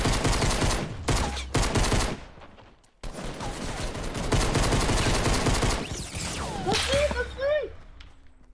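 Video game pistol gunfire in loud, dense bursts of rapid shots with sharp whip-like cracks and brief whooshes, broken by a short gap, with players talking excitedly over it.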